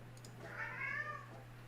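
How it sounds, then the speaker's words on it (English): A pet cat named Rooney lets out one drawn-out, rising and falling meow, close and fairly loud, over a steady low hum in a quiet room with no talking. "Sorry, my cat's like freaking out."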